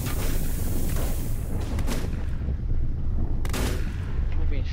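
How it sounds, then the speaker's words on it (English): Gunfire in the Volcanoids video game booms and rattles in dense, continuous bursts with a heavy low rumble, loud and close throughout. "Am I being shot right there?"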